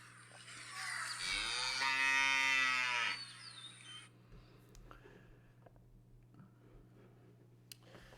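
A dairy cow lets out one loud, drawn-out moo lasting about two seconds, followed by quiet barn ambience with a steady low hum and faint clicks.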